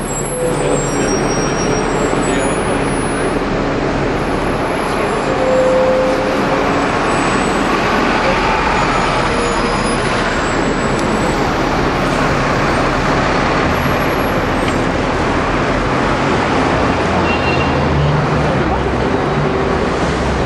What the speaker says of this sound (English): here we are on the bus in London